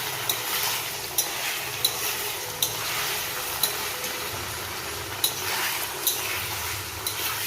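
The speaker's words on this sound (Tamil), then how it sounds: "இப்போ நம்ம அந்த வெந்திருக்க மட்டனை ஆட் பண்ணிக்கலாம் நல்லா இந்த ஆயில்லையே ரோஸ்ட் ஆகட்டும்" Cooked mutton roasts in hot oil with crackling curry leaves, a continuous loud sizzle broken by evenly spaced light ticks of a spoon against the pan.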